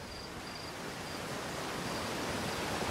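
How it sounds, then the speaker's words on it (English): Waterfall in the video game Outer Wilds, a steady broadband rush of falling water that holds constant and fills the scene, close and moderately loud with no voices. "Oh, here's that waterfall."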